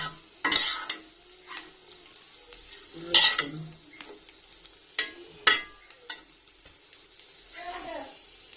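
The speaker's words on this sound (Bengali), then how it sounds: "দেখুন মরিচ পেঁয়াজ খুব ভালোভাবে ভাজা।" Chillies and onions frying over low-medium heat in a pan, stirred with a utensil: a soft background sizzle broken by several sharp scraping and clinking stirring strokes, close and fairly loud.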